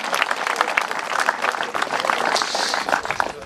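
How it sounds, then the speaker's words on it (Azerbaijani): An audience of soldiers at a military unit gathering gives sustained, dense applause that carries on steadily throughout. "Alqışlayaq bir daha."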